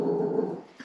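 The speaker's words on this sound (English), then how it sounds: "Our dog." A single short, low dog growl heard up close, lasting under a second and fading at the end.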